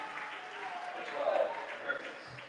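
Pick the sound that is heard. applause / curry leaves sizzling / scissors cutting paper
applause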